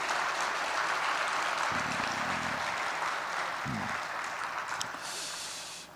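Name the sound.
congregation applauding to encourage young people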